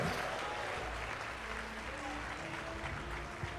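A church congregation applauds during a worship service, a continuous wash of clapping that is fairly quiet and distant, mixed with faint voices.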